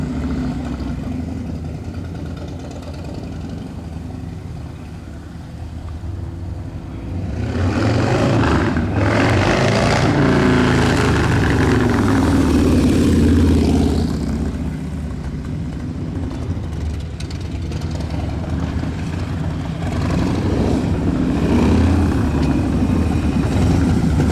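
A 2020 Harley-Davidson Low Rider V-twin rumbles loud and close after a cold start, a steady low idle that swells to a fuller throttle section midway before settling back, with no talking.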